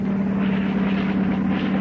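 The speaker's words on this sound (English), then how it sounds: "And that helicopter is bringing us mail from the United States." A steady, loud rotor drone with a strong low hum, continuous throughout with no voices, like a helicopter passing close overhead.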